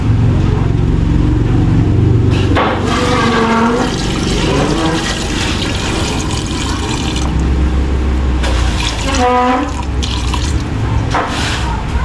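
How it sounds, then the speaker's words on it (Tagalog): Water poured into a cooking pot holding chicken feet and salt, a continuous splashing, gurgling fill heard close up with no talking over it. "Tubig."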